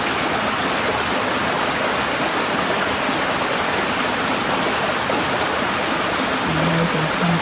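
A rainforest stream at Wirrawilla, Toolangi, among ferns, rushing steadily with a loud, dense, unbroken wash of flowing water and no voices.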